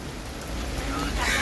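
Rain falls on an open vegetable and fish market in Panvel during a heavy downpour, a dense steady wash of drops with market noise mixed in.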